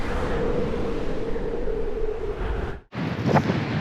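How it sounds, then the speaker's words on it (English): Steady, loud, dusty wind buffeting the microphone, roaring almost continuously before a brief drop-out, then gusting again. "A bit windy and a bit dusty, holy moly."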